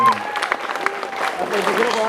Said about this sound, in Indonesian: Kita berikan tepuk tangan buat Bapak dan Ibu guru.